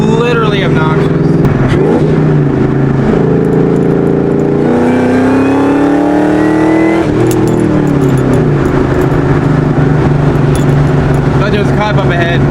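A Mustang GT fitted with BBK long tube headers, an off-road H-pipe and Borla Atak exhaust accelerates hard through the gears, its loud close engine note climbing steadily with a brief shift and rising again.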